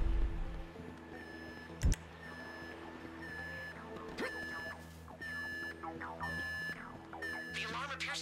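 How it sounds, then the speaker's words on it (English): Electronic alarm ringing inside the FIB federal building in the video game GTA V, repeating high beeping tones in steady bursts under background game sounds and a moderately loud ambience. "The alarm appears to be active."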